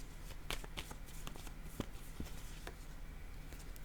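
Playing card drawn and laid down during a card reading, soft papery slides and light taps, quiet and close, in a hushed room.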